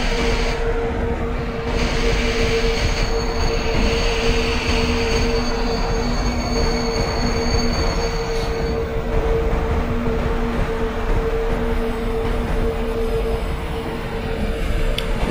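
A simulated train rolls past on the opposite track in Microsoft Train Simulator near Haringrang Junction, a steady loud rumble of wheels and carriages with a constant engine hum running through the whole stretch.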